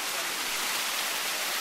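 Water rushes down a mossy mountain waterfall cascade on a trail, a steady broadband roar that holds even and close throughout.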